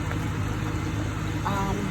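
A kitchen cooling fan runs steadily as a constant low broadband hum, with faint voices over it, while curry goat cooks.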